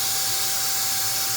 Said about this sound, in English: it keeps popping out at me with the steam